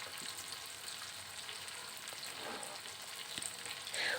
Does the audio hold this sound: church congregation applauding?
no